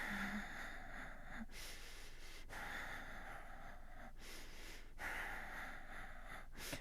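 Breathing during a Pilates reformer exercise comes as rhythmic sharp exhales and inhales, several cycles spaced about a second apart, close over a steady background hiss.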